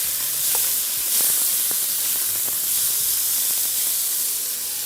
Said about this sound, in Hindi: इसको थोड़ा सा तेज़ आंच पे करेंगे फ्राई